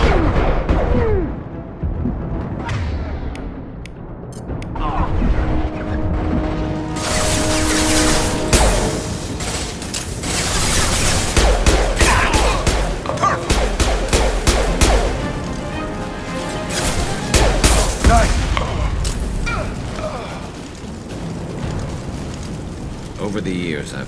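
Gunfire in the Mass Effect 2 video game, rapid crackling shots and heavy impacts running densely through a long, loud combat stretch, with in-game voices shouting over the action.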